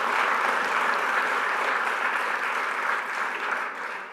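Sustained, dense applause from an audience at a community summit, steady and full for several seconds before tapering slightly near the end, with no talk over it.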